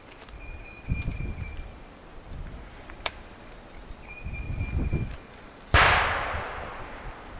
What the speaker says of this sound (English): Competitor's shooting a razorback down there.